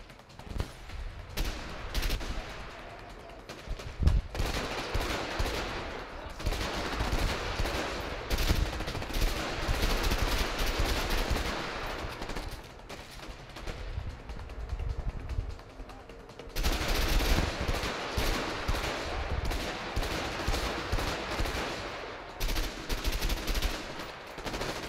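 Sustained automatic gunfire from a firefight in the video game A Way Out, dense rattling bursts running almost continuously with brief lulls, loud and up front, with excited voices talking over it.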